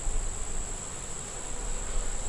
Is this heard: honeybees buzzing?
yes